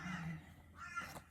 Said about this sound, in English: you hear those crows outside